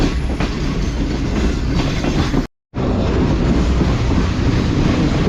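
The Mehran Express rolls toward the Kotri bridge after leaving Kotri station, a loud, close, continuous rumble of wheels and carriages that drops out briefly before roaring on.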